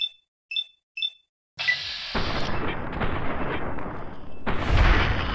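Gunshots in Fallout: New Vegas, a few short beeping tones followed by a heavy blast and sustained rumbling gunfire with another loud report near the end, no talk.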